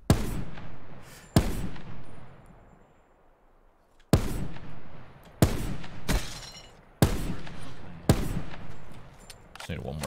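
Gunshots ring out in Call of Duty Black Ops 4 Blackout, about seven loud, sharp blasts spaced irregularly, each followed by a decaying echo tail, with a quiet pause between the first two.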